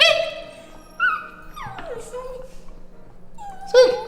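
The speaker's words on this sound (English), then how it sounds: "You guys want to give us one good Halloween howl?" Several dogs howl indoors on Halloween, with rising and falling wavering howls and whines that overlap, fade, then swell again in a short final burst.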